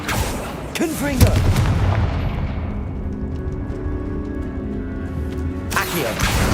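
A Confringo blasting curse from Hogwarts Legacy, cast inside a tomb, goes off as a loud booming blast near the start, with a lingering rumble and a second burst at the end.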